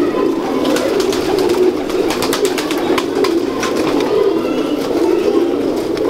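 Large Ferozpuri pigeons coo in a steady low rolling murmur, close and continuous, with scattered sharper clicks and flutters over the top and faint talk in the background.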